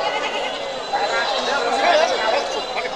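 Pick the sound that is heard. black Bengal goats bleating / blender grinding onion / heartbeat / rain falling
black Bengal goats bleating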